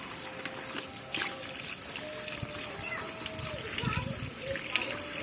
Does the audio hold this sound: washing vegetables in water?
yes